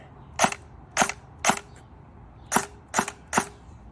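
Six sharp, muffled shots from a suppressed Kriss Vector Gen 1 airsoft gun with an electric gearbox, each a quick snap with a slight mechanical whir, spaced irregularly.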